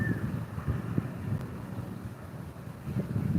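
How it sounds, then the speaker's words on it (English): Strong outdoor wind buffets the microphone in a continuous low rumble with gusty swells, loud and close, and nobody talks over it. "this wind is ridiculous out here"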